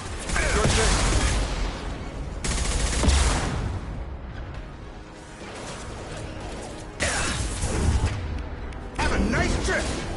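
Heavy weapon fire in the sci-fi shooter Mass Effect 2, loud bursts of blasting and mechanical whooshes arriving in several separate volleys with quieter gaps between, set against game ambience.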